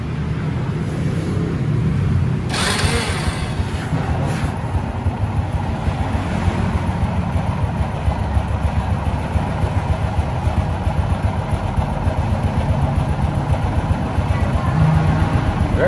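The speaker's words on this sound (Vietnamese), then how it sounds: "Anh em nghe tiếng máy ha, êm cực kỳ." A used Honda Future NF110 motorbike engine runs at a steady, smooth idle close by, with a brief rise in sound near the start and a constant low hum alongside light wind noise throughout.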